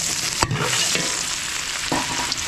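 Garlic and onion sautéing in a hot pan for pancit, a loud, bright continuous sizzle close up, punctuated by a few sharp knocks of a spatula stirring.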